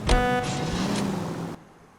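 A car drives in the L.A. Noire video game, giving a loud, close engine and road rush with a brief tonal, horn-like note at the start. It runs for about a second and a half, then drops to a faint hush.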